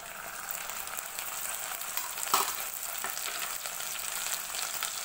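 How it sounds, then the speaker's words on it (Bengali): Ginger garlic paste sizzles in hot oil with browned onions in a pan while cooking masoor dal tadka, with a steady crackling fry, occasional stirring scrapes and one sharper clatter partway through. "আদা রসুনের পেস্টটি খুব ভালোভাবে তেলের মধ্যে ভেজে নিতে হবে"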